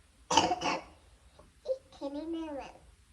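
A young child with a lingering cough after flu coughs a couple of times in quick bursts near the microphone, followed by soft childish babbling and vocal sounds.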